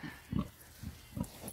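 Pig grunting near a hunting hound in training as the dog runs past, four short low grunts spaced evenly across a second and a half, close and moderately loud with no talk.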